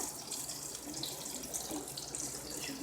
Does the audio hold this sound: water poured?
yes